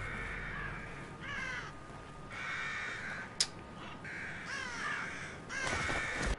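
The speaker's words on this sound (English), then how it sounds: "Get out, birds!" Several crows caw in short bursts inside the horror game The Evil Within, their calls spread over a few seconds with a steady ambient rumble underneath and a brief sharp click partway through.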